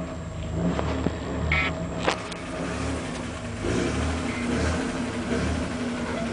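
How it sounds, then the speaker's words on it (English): A truck drives through mud, its engine rumbling and revving steadily at mid pitch with a few brief knocks and splashes, close and fairly loud, no voices. "Picking up mud in your truck."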